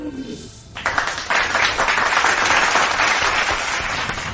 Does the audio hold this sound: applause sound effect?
yes